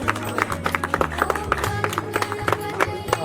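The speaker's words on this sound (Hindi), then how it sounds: "तालियां तो बजा लो।" Wedding guests clap unevenly at a Hindu wedding ceremony, scattered hand claps over steady music and background voices.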